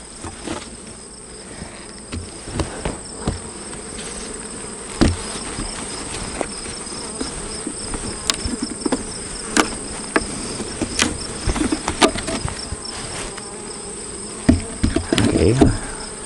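Honeybees buzz steadily around beehive frames during a honey harvest, a close continuous drone with scattered sharper knocks and taps from handling the hive boxes.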